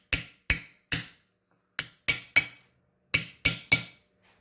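Hammer blows drive a wheel bearing flat through a piece of soft aluminum, nine sharp metallic strikes in irregular clusters with short decays and quiet gaps between.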